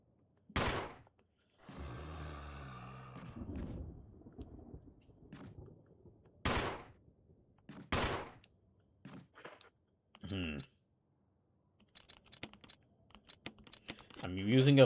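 Sharp, loud single gunshots crack at intervals in Resident Evil Remake, separated by silence and short bursts of other game sounds, without continuous speech over them.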